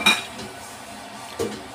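Used pots, dishes and cutlery clink during washing up in a home kitchen, two sharp metallic clatters, the first louder and the second fainter, with quiet background between.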